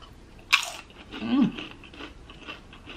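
Crunchy reheated tortilla chips from a Chipotle burrito bowl meal, bitten with one sharp crisp snap near the mouth, followed by a few softer chewing crunches and mouth sounds, close-miked and without talk.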